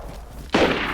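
A single sharp gunshot in a video game, cutting in at mid-point with a loud blast and a short rumbling tail.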